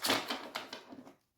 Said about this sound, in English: I have to shuffle these a bit different because they're very slippery, these cards